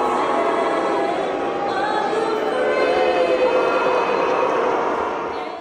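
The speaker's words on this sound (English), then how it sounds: "All of that noise came from Canadian hockey fans who wanted to show their disapproval" A large crowd of hockey fans booing in a packed arena, a sustained loud roar of disapproval with overlapping voices swelling and fading slightly at the end.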